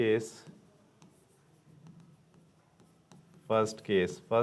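Pen or marker scratches out a chemistry equation on a board or page, quiet irregular strokes and taps between bursts of a teacher's speech at the start and end.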